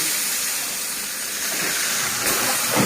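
Bata fish frying in hot oil, a steady broadband hiss and sizzle filling the whole stretch at close range, swelling slightly near the end with no voices.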